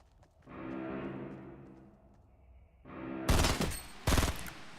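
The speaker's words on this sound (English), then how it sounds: "Blue burst rifle, get the headshot." A burst rifle fires in Fortnite with two sharp, loud, close multi-shot bursts near the end, preceded by a rising mechanical tone and ambient game sound, with no talk.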